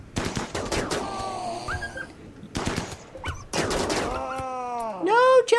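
Gunfire in the colony game Rimworld aimed at a lynx, heard as bursts of rapid shots spread through the first few seconds, then a wailing, groaning animal cry rises near the end.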